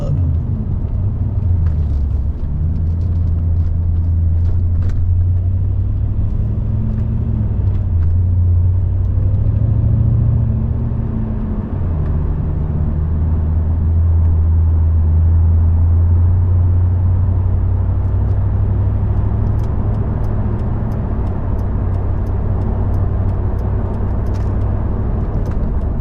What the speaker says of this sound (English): the sound of this SL55 AMG compressor